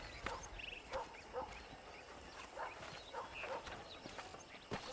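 Horse hooves clip-clopping in the Red Dead Redemption video game, a run of light, fairly regular hoof knocks at middle distance, mixed with scattered bird calls and outdoor ambience.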